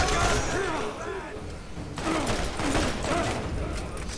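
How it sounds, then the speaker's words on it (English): Burst-fire gunshots in the video game Borderlands, rapid repeated bursts of shots with booms and mechanical clatter throughout, mixed with voices talking over the action. "No, this is burst fire."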